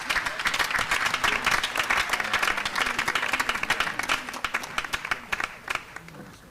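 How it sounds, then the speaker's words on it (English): Applause from a concert audience after a choral performance of the oratorio Esther in Lagos, dense sustained clapping that thins toward the end into scattered individual claps. "Ladies and gentlemen, once again, a round of applause."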